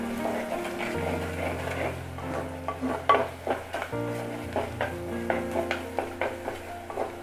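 Sliced onions with asafoetida sizzle steadily in a hot pan for a spicy Tamil bean curry, while a spoon stirs and scrapes against the metal in a loose, irregular rhythm.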